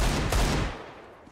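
Gunfire in the video game CS:GO, a dense burst of shots with a sharp crack, then a reverberant tail that fades away over the last half second.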